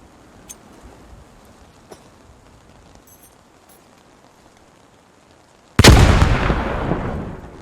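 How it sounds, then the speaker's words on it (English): In the Post Scriptum video game a frag grenade bursts suddenly near the end with a loud, close blast and a rumbling decay, after a long stretch of quiet with faint scattered pops. "You have frag grenades, which you are able to throw."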